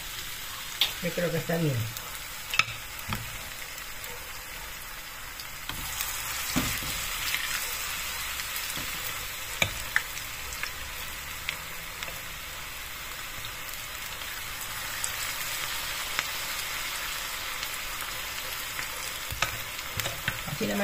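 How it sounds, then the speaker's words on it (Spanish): Pumpkin fritter batter fries in hot oil, a steady, dense crackling sizzle running throughout with occasional spoon clinks and pops, while someone speaks briefly over it. "Con ayuda con una cuchara, vamos a freír."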